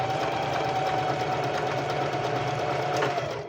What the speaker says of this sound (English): when you're working with a fabric like this, make sure that when you're sewing this